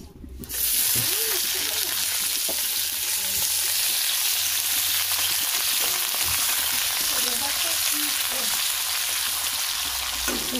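Bottle gourd stems, green banana and a paste of tomato, ginger and spices hit hot oil with a sudden loud sizzle. The frying noise stays strong and continuous, with a faint voice underneath.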